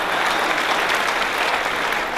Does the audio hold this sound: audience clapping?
yes